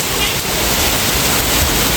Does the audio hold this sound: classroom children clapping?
no